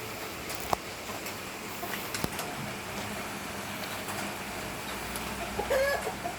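Native Korean chickens cluck softly amid steady outdoor farm background noise in the countryside, with a few sharper clicks and knocks nearby.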